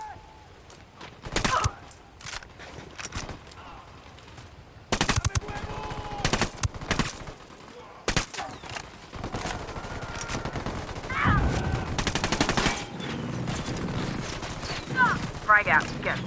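Bursts of automatic rifle fire in the video game Ghost Recon Wildlands, loud rattling volleys separated by quieter gaps, with some voices heard between the shots.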